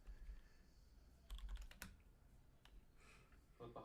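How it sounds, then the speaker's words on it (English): Computer keyboard typing heard in the background of a Minecraft-style multiplayer game session, a quick run of faint clicking keystrokes with a sharper clack or two, fairly distant and quiet. "I hear keyboards."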